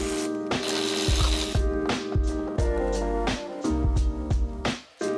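Ratchet wrench removing the subframe bolts on a Surron Ultra Bee electric motorbike, giving loud, close, rhythmic clicking in repeated bursts of turning strokes that stop briefly near the end.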